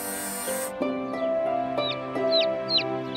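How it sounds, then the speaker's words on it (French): A cartoon bird in a French children's animated show, chirping in several short rising whistles over sustained musical tones, clear and close. "Bienvenue chez toi, petit oiseau."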